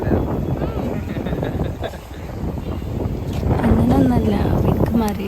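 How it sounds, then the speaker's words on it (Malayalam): Strong seafront wind with rain at Marine Drive buffets the microphone in a loud, continuous roar, while people talk over it. "നല്ല കാറ്റും മഴയുണ്ട്"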